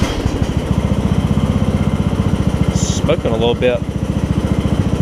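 A John Deere LA100 riding lawn mower engine runs steadily with a rapid, even putter close by, and a voice speaks briefly partway through.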